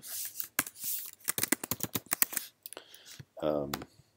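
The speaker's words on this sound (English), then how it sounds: "just by typing into the field" Soft, rapid clicking of keys being typed in a quick burst, fairly close, followed by a brief quiet voice.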